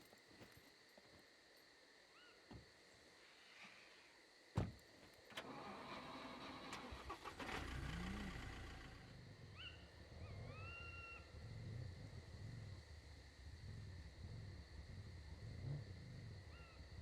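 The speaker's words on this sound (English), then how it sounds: "then I'm going to move the car back" A car engine in the survival video game Scum cranks and catches after a couple of clicks and a thud, then settles into a steady mid-pitched idle that runs on for several seconds against faint background ambience.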